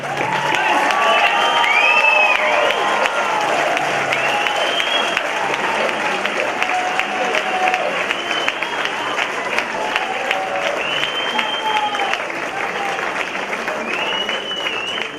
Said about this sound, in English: they deserve all the standing applause because that was incredible